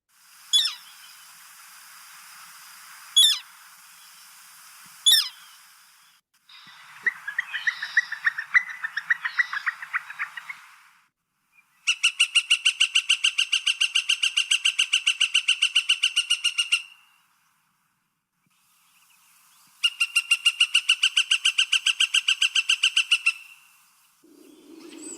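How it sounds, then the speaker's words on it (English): Northern flicker woodpecker calls, alone with no talk: a few sharp single notes, then a harsher chattering burst, followed by two long rapid runs of loud, even, laughing 'wick-wick' notes separated by a pause. "let's go with the northern flicker. I'm gonna play the call"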